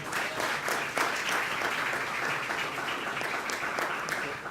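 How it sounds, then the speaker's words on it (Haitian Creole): Sustained audience applause fills a hall at an educational event about Creole in schools and media, a dense steady clapping that holds at even loudness throughout, with no voices on top. "Sur vos applaudissements, s'il vous plaît."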